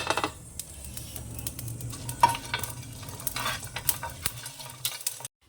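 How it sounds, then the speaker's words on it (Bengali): Whole spices such as mace, nutmeg and black pepper are stirred and dry-roasted in a dry pan, giving close scraping and rattling strokes with a light sizzle, repeated steadily for several seconds. "এগুলো একটুখানি আগে শুকনো খোলায় সব দিয়ে নিই একটু হালকা নেড়ে"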